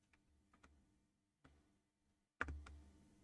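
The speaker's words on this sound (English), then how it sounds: "I'm trying to type with my keyboard." Sparse keystrokes on a computer keyboard, a few quiet isolated clicks spaced apart, ending in a louder close clatter of several taps.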